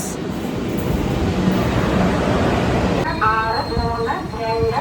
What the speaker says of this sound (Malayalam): മാംഗ്ലൂർക്ക് ഒരു ട്രെയിൻ പോകുന്നുണ്ട് കോയമ്പത്തൂർ മാംഗ്ലൂർ